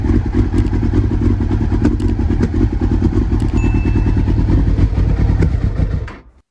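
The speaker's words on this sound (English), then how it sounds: "Put a bit of fuel in, hit the starter, and the bike did kind of run" A Kawasaki ZX6R motorcycle engine that was just brought back to life runs with a loud, steady, slightly uneven rumble and mechanical clatter, then cuts off abruptly at the end.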